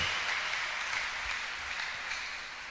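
A church congregation claps in praise of God, a soft, steady wash of applause from a distance that fades slightly toward the end, with no speech over it.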